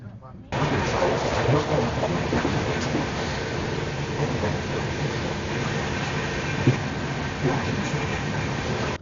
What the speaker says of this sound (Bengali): বোলপুর স্টেশন থেকে ছেড়েও দিল আমাদের ট্রেন